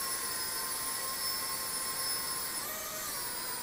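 S123 lighted indoor quadcopter drone spinning in flight, a steady high-pitched whine of small propellers holding level throughout, with a slight pitch shift near the end.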